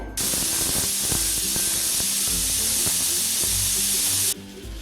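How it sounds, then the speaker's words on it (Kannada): Steam hisses loudly and continuously from a pressure cooker whistle while lentils cook for a festival sweet, with faint knocks and clatter underneath before it cuts off abruptly near the end. "ಇದರಲ್ಲಿರುವಂತಹ ಎಲ್ಲ ಸ್ಟೀಮ್ ಹೋಗೋವರೆಗೂ ನಾವು ವಿಸಿಲ್ ನೆತ್ತಬೇಕಾಗುತ್ತೆ"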